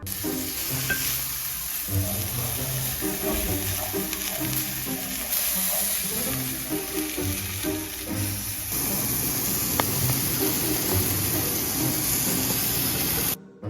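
Steak searing in a cast iron pan, a loud, continuous close sizzle with spitting hiss and occasional stirring or scraping sounds, running steadily until it cuts off.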